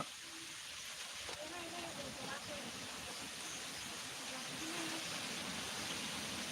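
Heavy rain falls on a farm in a steady, dense hiss that fills the whole clip, with a person talking over it.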